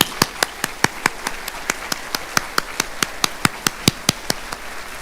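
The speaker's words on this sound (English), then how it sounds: "Give yourselves a round of applause." Sparse, individual hand claps ring out one by one, sharp and evenly spaced, from a small audience at a Polk County Public Schools awards ceremony honoring staff, with no voices over them.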